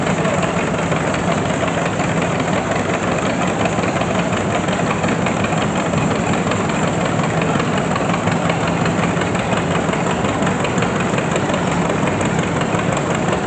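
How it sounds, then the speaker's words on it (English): A 1958 John Deere 720 vintage tractor engine runs at a farm show, a loud, steady low chugging drone that continues without a break. "This next tractor coming up here is a pretty old tractor."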